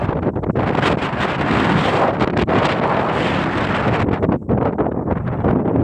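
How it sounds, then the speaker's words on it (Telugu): Strong wind roars across a mountain top near the Yogi Narayana temple at Chintamani, buffeting the microphone in a continuous loud rush with brief dips and gusts throughout. "ఆ గాలి సౌండ్ అనేది ఎంత వేగంగా ఉందో మీరు వినొచ్చు"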